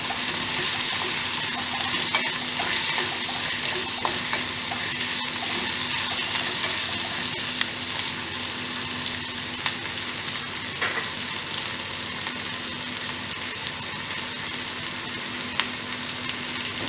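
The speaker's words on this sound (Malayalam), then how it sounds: "അപ്പോൾ തക്കാളി ചേർത്ത് കൊടുത്തു. ഇനി ഒന്ന് നന്നായി ഇളക്കി ഒഴിപ്പിക്കാം." Chopped onion and small tomatoes fry in a pan for brinjal kuzhambu, giving a steady, close sizzle that runs unbroken throughout, with occasional soft scrapes and clicks as the mixture is stirred.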